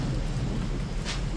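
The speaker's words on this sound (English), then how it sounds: "Feel the rain." Steady rain pours down with a low rumble of thunder through a thunderstorm, constant and close with no voices.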